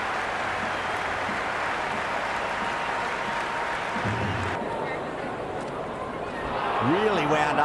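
Cricket stadium crowd at an India match roaring and applauding after a boundary four, a dense steady wash of cheering and clapping throughout, swelling slightly toward the end, with a commentator's voice faintly in the mix.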